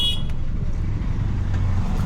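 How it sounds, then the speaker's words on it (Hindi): Slow road traffic heard from inside a car creeping along a busy street, with a steady low engine and road rumble and a faint horn toot early on. "अब यहाँ ट्रैफिक है, हम बिल्कुल गाड़ी धीरे धीरे चला रहे हैं"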